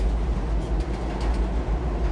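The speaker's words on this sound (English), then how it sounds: "We'll wait for the train to go by." A train passing nearby produces a steady, heavy low rumble with a broad roaring wash across the whole clip and no other sounds on top.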